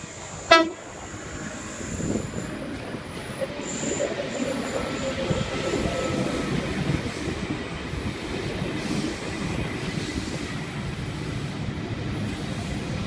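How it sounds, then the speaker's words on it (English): Sydney Trains V-set intercity train returning from Lithgow and arriving at platform 1 at Sydney Central, with a sharp horn toot at the start followed by steady rumbling wheel and carriage noise as it rolls in close by. "We've got a VSET returning from Lithgow, arriving into platform 1, Central Sydney Terminal service."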